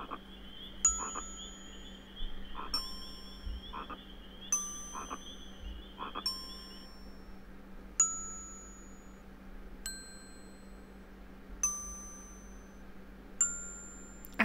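Bright bell-like dings ring out one at a time in a slow, spaced melody over a steady electronic hum, with faint clicks in between, in the children's game Nils Holgerssons wunderbare Reise.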